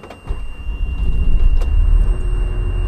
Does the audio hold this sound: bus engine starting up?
yes